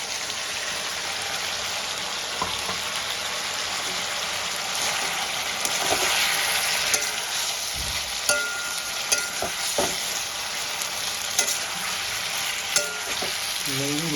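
Chopped tomato going into a pan of frying potato, cauliflower and peas, a steady close sizzle with faint stirring clicks and scrapes running throughout, no talking.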